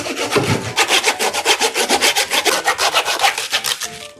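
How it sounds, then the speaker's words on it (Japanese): Handsaw cutting through the very hard head of a 60 kg humphead wrasse, a loud close rasping back-and-forth rhythm of quick even strokes, heard alone. "なんで、ノコギリでいきます。"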